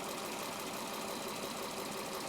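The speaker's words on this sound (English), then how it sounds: "We don't have to keep the engine running." A 2014 Audi Q7 engine idles steadily close by, a continuous mid-pitched running hum with a faint knocking texture and no talk over it.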